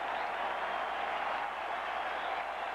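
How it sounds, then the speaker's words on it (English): A Fenway Park baseball crowd during an October playoff game roars in a steady, distant wash of cheering that holds evenly throughout. "Now the Fenway crowd gets into it."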